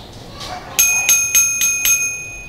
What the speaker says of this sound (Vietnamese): chuông cồn bát bên trên tay cầm của chúng ta